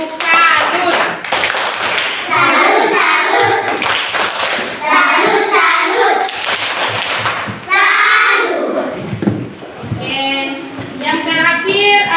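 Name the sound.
group doing a 'tepuk salut' rhythmic salute clap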